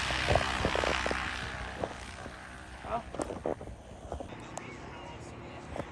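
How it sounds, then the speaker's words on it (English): A plane landing at an airfield during a motor classic car, plane and helicopter show, its engine drone steady and moderately distant beneath wind noise, crowd sounds and an occasional voice. "Looks like we have a plane landing"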